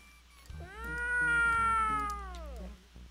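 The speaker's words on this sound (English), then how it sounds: "What a strange cat. More like a demonic cat." A strange, eerie cat in a romance video game gives one long drawn-out meow that swells, holds and fades, loud and clear with no talk over it.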